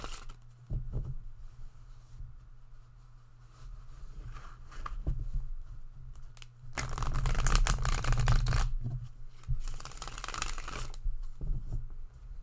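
Tarot cards being shuffled by hand in bursts of riffling and sliding, with a longer, louder shuffle in the middle over a low steady hum, with no talking.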